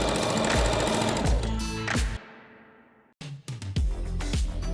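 Sewing machine running in a workspace where thrown-out plastic is repurposed into pillows and mattresses, a loud, steady mechanical whir with rhythmic needle thumps that stops abruptly, leaving a brief silence, then starts again.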